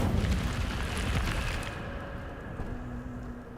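Incendio fire spell cast in Hogwarts Legacy, a loud rushing whoosh of flame with a crackling roar that fades into a softer burning hiss.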